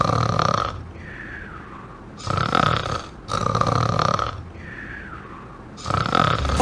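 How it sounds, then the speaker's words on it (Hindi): A sleeping person snores in repeated rough, loud, drawn-out cycles, each harsh inhale broken by quieter gaps, close and alone with no talk. "जब कोई नींद में खर्राटे लेता है तो उसके पास मौजूद इंसान तो पागल ही हो जाता है"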